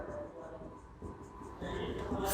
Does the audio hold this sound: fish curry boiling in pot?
no